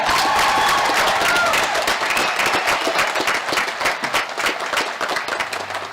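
Graduation ceremony audience applauding the graduates at Klamath Community College's 2017 commencement, a dense, sustained wave of clapping with some cheering that holds steady and eases slightly toward the end.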